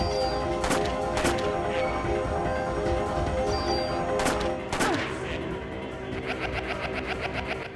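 Player's gun firing in the Parasite Eve video game, several loud sharp shots among busy game sounds and a clattering rattle near the end, with no talking.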